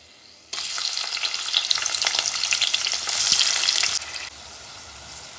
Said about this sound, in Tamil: அதுக்கப்புறம் வெங்காயம் போட்டுக்கலாம்.